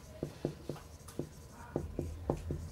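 Chalk tapping and scraping on a blackboard while writing out a line equation, a string of short crisp strokes and taps at an irregular pace, close and fairly quiet.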